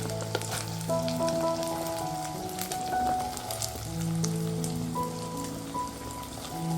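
Small shallots for a beef roast fry in a pan with a steady, bright sizzle like rain on a surface, continuous and close throughout, with a tonal hum running underneath and no talking.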